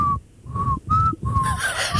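Someone whistles a short tune up close, a few clear sustained notes separated by brief pauses.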